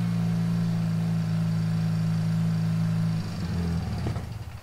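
A motorcycle engine held at high rpm, around 3000 to 3500, with a steady droning hum that drops in pitch and roughens near the end as the hot engine winds down.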